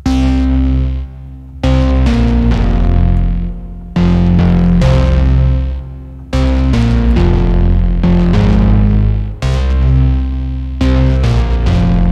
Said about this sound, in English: Plenty of grit and noise. Big, nice big sounds.